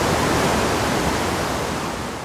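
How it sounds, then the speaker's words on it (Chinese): A river gushes out of a cave high on a mountainside and plunges into a waterfall, a loud, dense, unbroken roar of rushing water. "最终河水从半山腰的洞口奔涌而出"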